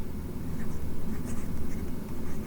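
Writing on a board during a maths lecture: soft, rhythmic strokes repeating in quick pulses over a low room rumble, close and fairly faint.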